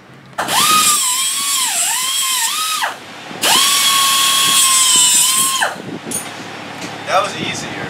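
An impact wrench whirs loudly in two long bursts during work on a twin-turbo Cummins build, its pitch dipping and wavering under load, followed by clatter and brief voices.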